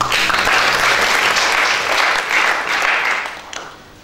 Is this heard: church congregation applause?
yes